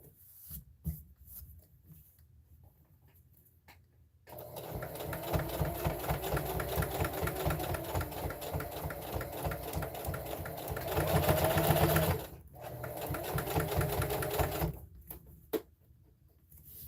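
Sewing machine top stitching a fabric mug rug, a steady fast mechanical whir running for about ten seconds, swelling slightly near the end, framed by quiet handling noises before and after.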